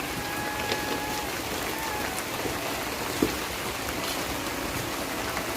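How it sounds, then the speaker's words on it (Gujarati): Steady rain falls in an even, continuous wash of noise, with no voices and one faint knock partway through. "અમારે આખી રાતનો અને અત્યારમાં સવારનો એક ધારો વરસાદ ચાલુ જ છે"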